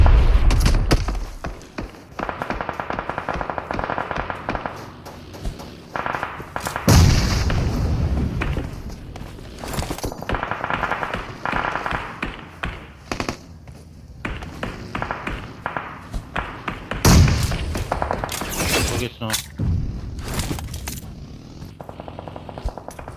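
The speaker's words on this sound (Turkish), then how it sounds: "Biri bomba atıyor sana." Bombs go off in a multiplayer shooter game during a two-team house raid, with loud booming blasts and gunfire crackle over a constant game din.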